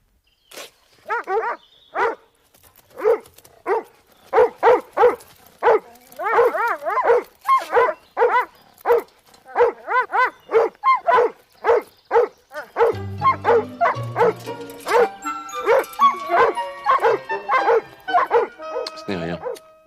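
Several dogs bark in sharp, repeated bursts at close range, a steady volley of separate barks that keeps going for the whole stretch, with a brief musical passage coming in under the barking toward the end.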